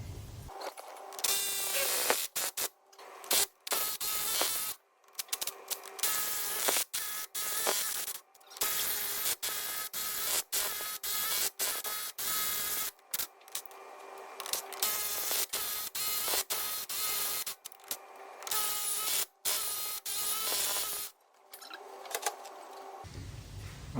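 Impact gun spinning out the 13mm brake disc screws on a Ford Transit Custom, close and loud, with repeated harsh buzzing bursts broken by short pauses for about twenty seconds, no talking.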